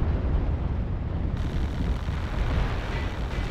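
Heavy Gauss weapon fire in Mechwarrior Online, a dense, loud booming rumble with sustained low-end roar and no talk, filling the whole moment up close.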